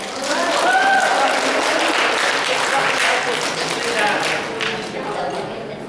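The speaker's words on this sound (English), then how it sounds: "Give yourselves a round of applause." A training audience in Dubai breaks into steady applause for about six seconds, a dense wash of clapping that fades a little toward the end, with a voice briefly heard above it.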